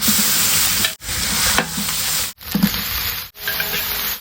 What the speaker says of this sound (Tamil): நெய் கூட வந்து நான் இஞ்சி பூண்டு போட்டுக்கிறேன்